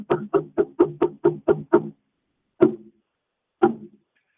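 A hand drum is struck in a quick run of eight resonant thumps, then two single beats after pauses, close and moderately loud.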